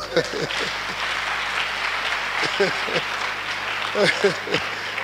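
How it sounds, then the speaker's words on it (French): A church congregation at a French-language worship service claps steadily and loudly, with rhythmic clapping and cheering voices throughout. "Acclamons pour vous."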